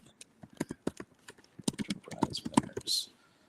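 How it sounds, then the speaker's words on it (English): Typing on a computer keyboard, a quick irregular run of sharp, close key clicks building into denser bursts. "I can't talk and type at the same time."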